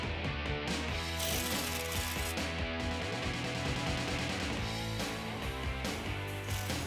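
Steady ratchet clicking from wrenching out the upper bolts on a 2015-2017 Jeep Wrangler JK, loud and close, running continuously with dense mechanical chatter throughout.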